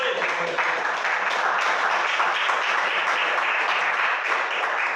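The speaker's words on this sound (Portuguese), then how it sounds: "Mais palmas para Jesus." A church congregation claps together during a worship service, a dense, steady wash of applause from many hands that fills the room evenly and holds for several seconds.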